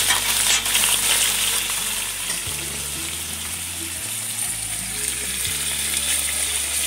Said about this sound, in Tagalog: Haluin ng haluin hanggang maluto.